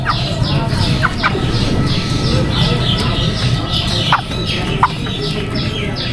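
Broiler chickens on a poultry farm cluck and call continuously, with a dense flock murmur throughout and a few sharper calls standing out, close and fairly loud.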